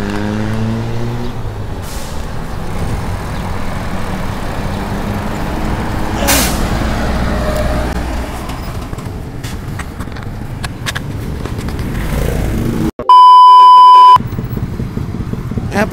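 Busy roadside highway traffic near Letran, with trucks and buses rumbling past close by and a sustained loud engine and road roar throughout, plus air-brake hisses and a sharp horn-like tonal blast near the end.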